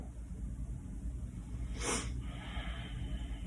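A single slow, deep breath during a seated desk-chair yoga stretch, one soft airy exhale standing out briefly against a steady low room hum.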